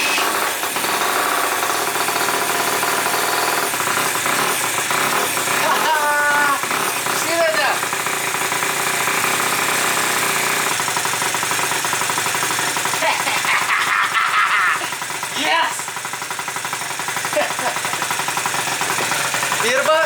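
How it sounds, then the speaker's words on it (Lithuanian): A Yamaha Aerox scooter engine idles after repair, a close, steady rough mechanical rattle and hum that continues throughout under a man's speech. "ant laisvų apsukų dabar padariau, kad dirbtų"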